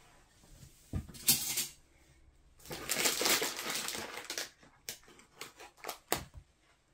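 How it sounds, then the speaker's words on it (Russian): Pumpkin seeds being ground in a small grinder or mill, with bursts of crunching and rasping, one dense stretch in the middle and several short sharp pulses, close and fairly loud with no talking. "чайную ложечку самых обычных тыквенных семечек, перемолола и залила кипятком."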